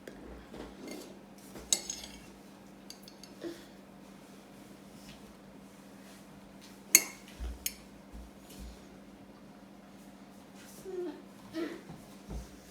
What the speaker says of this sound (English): Use a spoon and put the chilies on top.